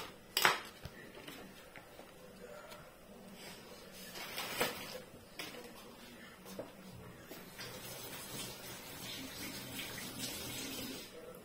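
Butter being mixed in a bowl for cupcakes, heard as close clinks and scrapes of a utensil against the bowl, irregular and moderately quiet, with a faint watery background.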